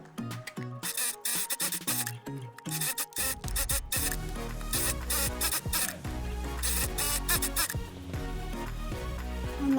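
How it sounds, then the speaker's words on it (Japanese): A sewing machine stitching both side seams of a lined eco bag with a 1 cm seam allowance, running in quick rhythmic bursts, then a long continuous whirring run, loud and close. "では縫い代1センチで両端縫っていきます。"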